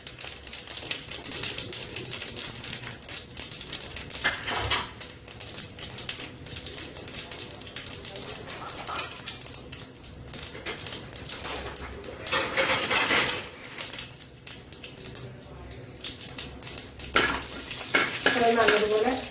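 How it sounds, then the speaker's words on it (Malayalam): Mustard seeds and urad dal frying in hot oil for an aloo curry tempering, a steady crackling sizzle with scattered pops and occasional stirring scrapes of a utensil against the pan, no talk. "കടുക് പൊട്ടി അതുപോലെ ഉഴുന്ന് പരിപ്പ് ഒന്ന് ബ്രൗൺ കളർ ആയിട്ടുണ്ട്"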